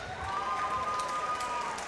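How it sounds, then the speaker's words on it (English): Crowd applause and cheering for two fighters after an MMA bout at a Pinnacle FC event, a dense continuous wash of clapping that stays steady and fairly loud throughout. "Ladies and gentlemen, a big round of applause for both of these fighters."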